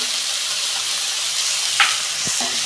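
Ground coriander, cumin and red chili powder fry in a pan, a loud, steady sizzling hiss with a brief scrape of stirring near the end, no voices.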